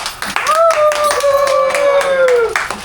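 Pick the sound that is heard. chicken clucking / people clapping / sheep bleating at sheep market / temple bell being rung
people clapping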